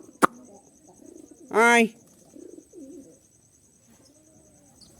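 Jalali pigeons coo from a tree nearby, soft throaty calls mixed with a sharp chirp and a brief sparrow-like trill, while a man calls out to the birds.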